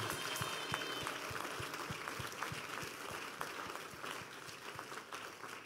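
A church conference congregation claps steadily and rhythmically throughout, a dense, even wash of many hands filling the room with no break.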